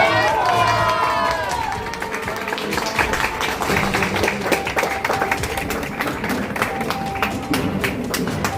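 A crowd at an RCM shop opening in a village market breaks into dense, sustained clapping with some cheering after a brief voice at the start, loud and close throughout.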